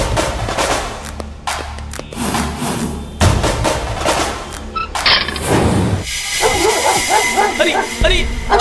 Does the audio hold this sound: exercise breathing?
no